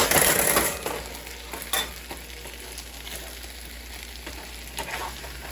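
Spam fried rice hisses steadily in a hot pan while a utensil stirs and scrapes through it, a loud burst of sizzling at first settling into a constant fry with occasional scraping knocks and no talking.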